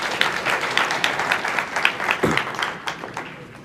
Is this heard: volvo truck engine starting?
no